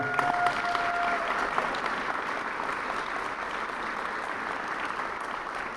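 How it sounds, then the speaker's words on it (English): Sustained applause fills a press conference welcoming a new head coach and staff, steady dense clapping from a sizeable crowd at moderate volume throughout, with no clear speech over it. "give them another round of applause, please"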